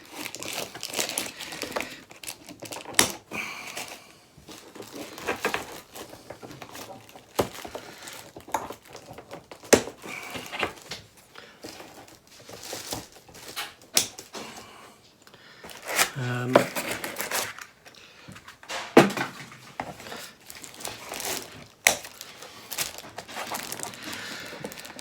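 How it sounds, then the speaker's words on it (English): Scissors snip away bits of packaging holding a Star Wars collectable, giving a scattered run of short crisp cuts and crinkly plastic and card rustles close by, with a voice talking over parts of it. "So let me snip all them in one hit."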